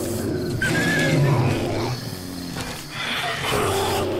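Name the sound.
bear fighting dogs in the video game 7 Days to Die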